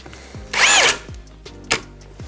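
A Worcraft CHD-S20LiBAB brushless cordless drill on second speed, fitted with a 32 mm Forstner bit, gives short bursts of whirring: one longer loaded whine, then brief stuttering spins with clicks, heard up close.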